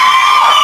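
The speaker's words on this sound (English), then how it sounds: "they were still screaming when she came on" A television studio audience on The Graham Norton Show screams and cheers, a loud, sustained wall of high-pitched crowd noise filling the whole moment.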